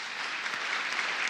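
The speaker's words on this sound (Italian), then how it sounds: "un grazie speciale e un applauso magari" A crowd applauding steadily at a concert, a dense wash of clapping hands that holds at an even level throughout, with no talking.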